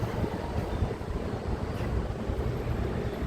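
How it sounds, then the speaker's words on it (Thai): Steady broadband rush of a splashing water fountain, continuous and fairly loud, with a low rumble and no voices, near the BTS Mo Chit and MRT Chatuchak stations in Bangkok. "นี่ครับ จะเป็นน้ำพุนะครับ"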